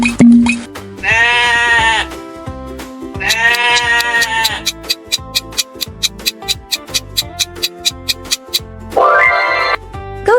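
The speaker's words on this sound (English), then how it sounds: "Where do you find the goat?" A goat bleats loudly three times, with drawn-out wavering cries, while a rhythmic bouncing pulse repeats in the gaps between them.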